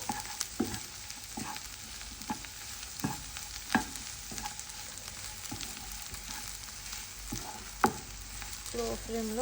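Chili powder frying in a pan while being stirred, with a continuous soft sizzle and about a dozen distinct scraping taps of the spoon at irregular intervals, close but fairly quiet, with no talking.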